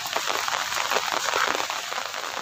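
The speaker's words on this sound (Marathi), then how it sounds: "पाऊस पुन्हा सुरू झाला आहे." Rain falling at the Kelus seashore makes a dense, steady patter and hiss, close and continuous for the whole stretch, with no voices.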